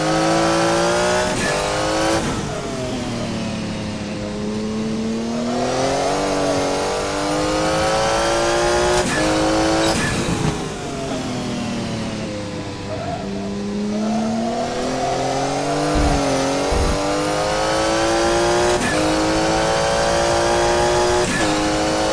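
Porsche 956 Group C race car engine in a racing video game, a loud continuous howl rising and falling through gear changes and corners, sustained throughout with brief shifts between revs.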